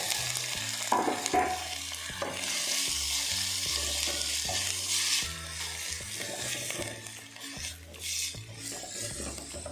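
Onion sizzles and crackles in hot oil in a home kitchen pan, with repeated stirring scrapes and clinks against the pan over a steady frying hiss.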